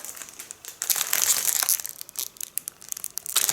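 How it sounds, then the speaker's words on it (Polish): A foil-wrapped gift is unwrapped nearby, with loud, irregular crinkling and crumpling of foil coming in repeated bursts and no speech. "I ten prezent, który dostałam od wujka, już teraz otwieramy."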